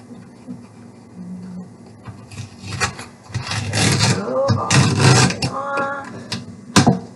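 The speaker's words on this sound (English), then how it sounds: "we remove the strips of tape from the blank side." Strips of tape being peeled from the blank side of popsicle sticks close up, heard as intermittent tearing and rasping rubs that grow busier toward the middle, alongside light handling and clatter of the sticks.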